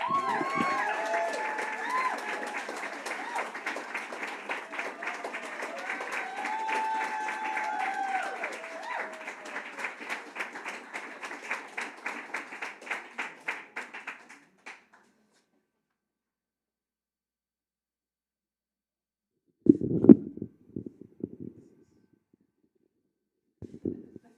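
Applause rolls through an award ceremony audience, a dense steady clapping lasting about fourteen seconds before fading out, followed by silence, then brief bursts of handling noise and a short voice near the end.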